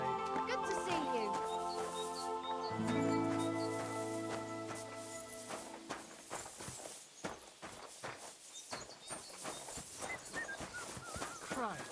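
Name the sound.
dog named Mutt whimpering, Kingdom Come Deliverance 2 video game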